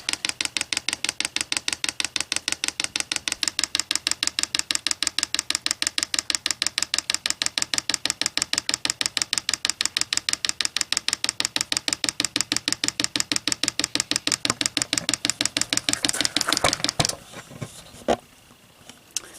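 A diesel heater's small fuel pump, run by hand to draw diesel through the line, ticks in a steady rapid clicking pulse for about sixteen seconds, then falters into a few irregular clicks before stopping.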